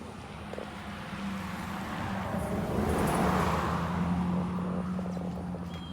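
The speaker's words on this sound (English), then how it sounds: "As you can tell, this is a fairly busy road." Traffic on a fairly busy road sweeps past as a vehicle swells into a broad rushing whoosh near the middle and then fades, under a steady background of wind and road noise, with no talking.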